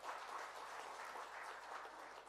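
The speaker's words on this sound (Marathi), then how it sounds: "त्यांच्यासाठी खरंच जोरदार टाळ्या." Steady applause fills a hall at a Kolhapur state-level convention of digital media journalists and editors, welcoming a guest who runs a rest house; continuous, fairly faint clapping from a crowd with no talk over it.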